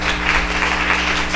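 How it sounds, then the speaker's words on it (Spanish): A church congregation applauding at a Purim gathering, a steady wash of many hands clapping throughout without pause, fairly loud and close with no talk. "¿Quieren darle un fuerte aplauso al Señor?"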